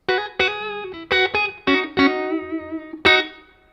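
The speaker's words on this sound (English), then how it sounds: "This is my clean tone." Electric guitar in a clean tone through a Fender Supersonic amp with a touch of reverb, a short run of plucked notes and chords ringing out and decaying, close and alone.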